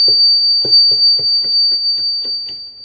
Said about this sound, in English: that is when this earthquake alarm is going to trigger and it is going to make a big noise